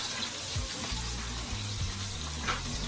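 Cumin seeds roast and sizzle in a kadai for kadai paneer, producing a steady, close hiss and crackle with low bubbling thumps underneath and no talking.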